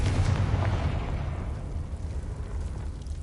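A Confringo fire spell explodes in Hogwarts Legacy: a loud, deep boom that opens at full force and then rolls off into a fading rumble.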